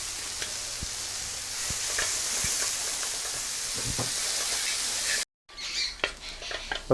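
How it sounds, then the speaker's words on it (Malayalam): Sliced onions with salt fry in a pan with a steady hiss and occasional stirring clicks, cut by a brief silence before a final few louder scrapes. "സവാള മുറിച്ചത് കുറച്ച് ഉപ്പിടാം സവാള പെട്ടെന്ന് വയണ്ട് കിട്ടാൻ വേണ്ടിയിട്ട്"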